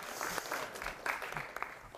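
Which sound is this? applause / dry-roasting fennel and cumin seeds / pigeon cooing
applause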